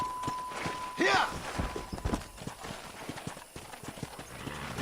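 Horse hooves clip-clop at a walking pace in the Red Dead Redemption video game, close and rhythmic, with a brief neigh and a voice calling out over the steps.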